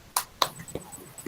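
A primary-school class doing the tepuk semangat clapping chant: a few sharp, separate claps in quick succession, close by, with a voice briefly between them.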